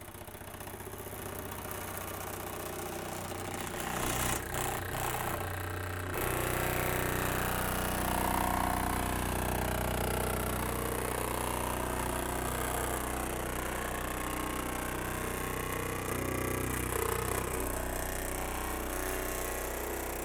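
MiniMax sheet metal forming machine running steadily, a continuous mechanical drone with a rhythmic throb while it works an 1/8 inch step into sheet metal, with a brief shift in tone early on and no talking.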